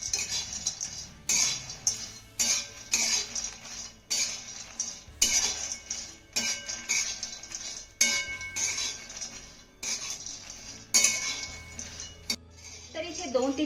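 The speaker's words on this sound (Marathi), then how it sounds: "मीडियम फ्लेमवरती हे सर्व साहित्य आपल्याला 2 ते 3 मिनिटं भाजून घ्यायचं आहे" Grated dry coconut mix roasting on medium flame, stirred in a pan with a spoon that scrapes and clinks in repeated strokes, close, with a person talking over it.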